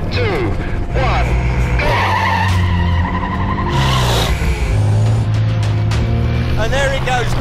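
Volvo Iron Knight truck accelerating down a track during a world speed record run, a loud continuous engine roar with rising pitch, heard under excited commentary.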